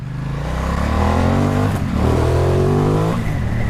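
A Ducati XDiavel Black Star sports cruiser motorcycle revs loudly and steadily up close, its deep engine note rising and falling through two throttle blips with no talking.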